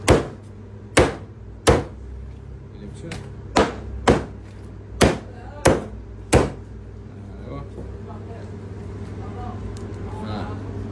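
Sacrificial ram meat being chopped at home, a run of eight or nine loud, sharp cleaver blows at an uneven pace over a low hum, then quieter handling with no further strikes.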